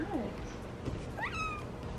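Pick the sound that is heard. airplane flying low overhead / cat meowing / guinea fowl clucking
cat meowing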